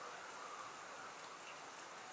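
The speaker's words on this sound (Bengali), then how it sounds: "তো খুব বেশি বৃষ্টি হচ্ছে" Heavy rain falls steadily in Chhatak, Sylhet, during flooding, a continuous even hiss of drops without pauses, heard faintly and from some distance.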